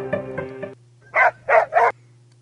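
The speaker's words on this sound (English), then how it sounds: "So we land on the dog, and got to hear the dog's sound." Three short, clear dog barks from a phone app's animal-sounds wheel, following a brief musical jingle, played alone with a faint steady hum underneath.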